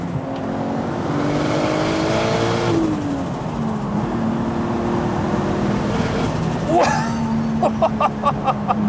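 A Nissan Skyline GT-T engine revs through heel-and-toe downshifts, rising and falling in pitch with blips between gears, loud and close from inside the cabin, with a sharper rev burst near the end.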